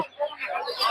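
Native deshi chickens clucking at a poultry stall in a Golakandail market, a short burst of close, busy cackling with no talk.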